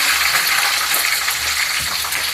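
Curry leaves and whole garlic cloves frying in hot oil, a steady close hiss and crackle with faint bubbling throughout, no voices.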